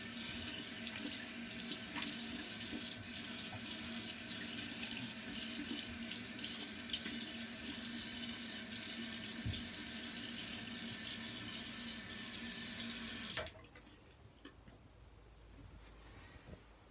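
Tap water runs steadily into a sink while alum is rinsed off, a loud continuous gush that cuts off abruptly near the end, leaving quiet room tone.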